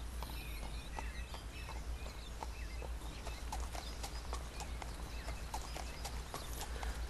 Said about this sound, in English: Horse right in the middle of the trail.